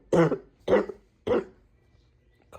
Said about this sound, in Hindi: खांसी जुकाम दोनों एक साथ है।